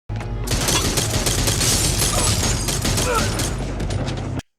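A burst of rapid gunfire fills a tense television drama scene, loud and dense with sharp cracks and booms for about four seconds before cutting off abruptly.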